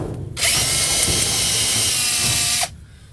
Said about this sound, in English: we'll get this laid out, and then we'll start drilling